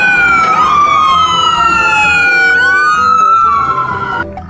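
A toy ambulance's electronic siren wails up and down close by, loud and continuous, with several rising and falling sweeps over a few seconds and no talking.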